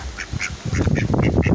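A duck quacks in a quick run of short, nasal calls, fairly close and loud, with no talking over it.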